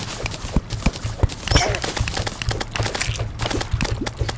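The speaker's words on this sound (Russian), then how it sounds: "Так, сейчас я возьму топор, попробую." Repeated axe chops in the video game Terraria, a steady series of sharp, close impact hits about every half second over a busy game soundtrack.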